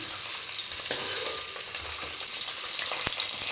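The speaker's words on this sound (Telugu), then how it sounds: "ఈ ములకాయ ముక్కలు రెండు మూడు నిమిషాల పాటు ఇలా నూనెలో వేగనిద్దామండి" Drumstick (moringa) pieces frying in hot oil for a pulusu, a continuous close sizzle and crackle with a few light utensil clicks, no voices.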